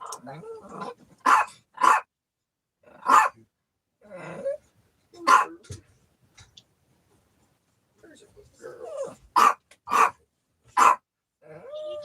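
A puppy gives a series of short, sharp barks in scattered bursts over a quiet background, close to the microphone, with some speech-like sounds mixed in.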